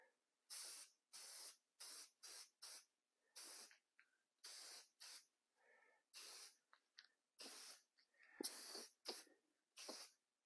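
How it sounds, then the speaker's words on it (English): Aerosol spray paint applied to a metal lathe tool rest in a workshop, a series of about a dozen short sharp hissing bursts of varying length separated by near silence, close and clear. "so let's give it a spray"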